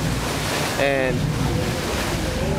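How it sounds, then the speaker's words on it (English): Ferry ride on a river in Bangkok, with steady wind and water rush over the deck and a brief voice near the start. "we're taking a ferry ride"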